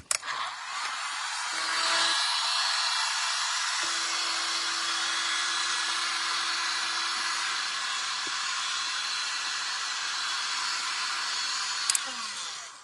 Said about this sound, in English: I'm just going to put my air dryer on air and not heat